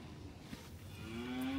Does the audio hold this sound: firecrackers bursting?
no